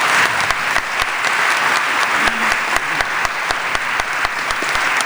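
A church congregation claps for the Lord in brisk, steady rhythm, many hands producing dense, loud applause that keeps going throughout without pause.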